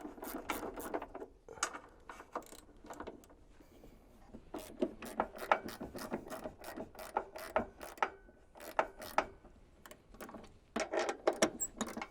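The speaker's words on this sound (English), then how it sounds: "So I need to loosen all four of these bolts" A ratchet wrench loosening bolts on a Norwood LM29 band sawmill, heard as close, rapid clicking bursts of the pawl in repeated runs, with short pauses between strokes.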